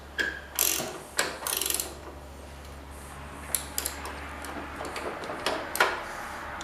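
A ratchet wrench clicks through short bursts of turning on a socket while working on a 1981 John Deere 317 garden tractor, sharp ratcheting rattles separated by pauses over a low steady hum, no talking.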